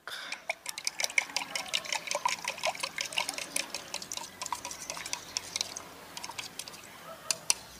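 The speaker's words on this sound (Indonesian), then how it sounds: "Masukkan telur semuanya, sebenarnya putih dan kuningnya, ke dalam air kelapanya. Kemudian diaduk." Whole eggs, whites and yolks, stirred into coconut water, giving close, rapid clinking and liquid sloshing strokes in an uneven steady rhythm, with no talk.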